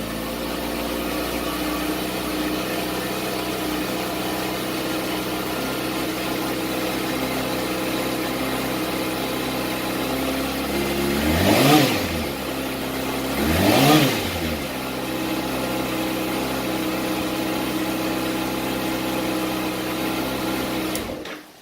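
A 2018 Kawasaki ZX6R with a K&N air filter idles steadily and loudly up close, broken by two quick, sharp throttle blips a couple of seconds apart before settling back to idle.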